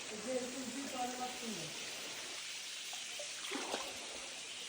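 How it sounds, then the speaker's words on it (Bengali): A small hillside waterfall trickles in a steady broadband wash of flowing water, with a voice speaking over it at the start. "এই যে আরেকটা ঝর্ণা"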